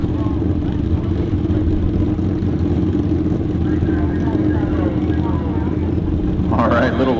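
Drag racing motorcycle engine on the Laser Lips bike at Canada Heads Up Drag Racing, Toronto Motorsports Park, a steady loud drone throughout with a rising rev near the end, under crowd noise and announcer talk.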